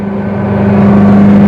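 A tuned car engine hums under steady load, rising slightly with a strong low drone that holds loud and close throughout.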